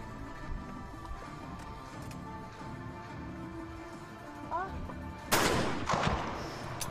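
A single shotgun blast in a women's trap shooting final at the 2021 Chinese National Games rings out late, distant and fairly faint, with a short reverberant tail over a quiet outdoor background hum.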